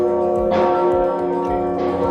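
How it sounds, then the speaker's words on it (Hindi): Church bells ring out at St. Stephen's Basilica in Budapest during prayer, sustained loud tolling with rich overlapping harmonics, strikes swelling about every second and a half over the open city air. "अभी यहाँ पे प्रेयर चल रही है इसलिए घंटियाँ बज रही हैं।"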